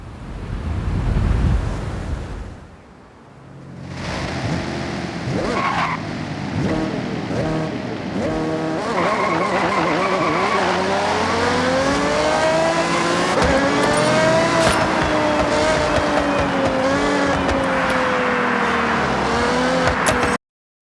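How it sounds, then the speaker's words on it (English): The Aston Martin Vulcan hypercar engine in Forza Horizon revs up loudly with rising, shifting engine tones over strong wind and road rush, and no one talks. "I'm going to switch into a hypercar now, the Aston Martin Vulcan, and just listen to the sound difference"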